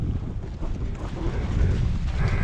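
Strong wind roars outdoors on a rock-strewn road during a heavy rainstorm, a steady, loud rushing buffeting the microphone throughout.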